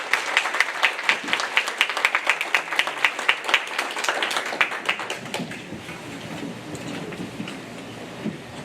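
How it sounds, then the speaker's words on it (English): A crowd applauds with dense, steady clapping for several seconds, then it thins and fades to a quieter room murmur. "Let's give Luke a round of applause."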